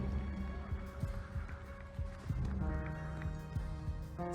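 Horse hooves clip-clop at a steady trot in a Warframe video game trailer, heard alongside music and layered game sound effects at moderate loudness.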